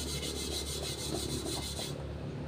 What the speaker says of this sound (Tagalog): Try na natin kuskusin.